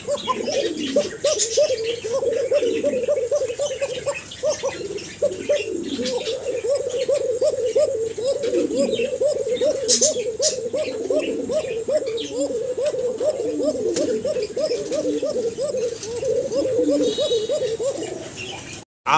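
Pigeons coo continuously in a loft where breeding pairs sit on eggs, many overlapping throaty coos close by, with faint chirps and rustling in the background.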